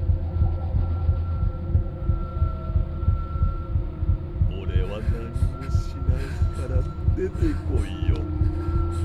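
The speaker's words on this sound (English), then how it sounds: "What do the heartbeats mean?" Heartbeat effect in a horror video game, a steady low throbbing pulse repeating under a continuous hum, with game sounds and voices joining in the second half.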